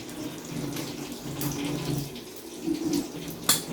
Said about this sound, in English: just run them under water.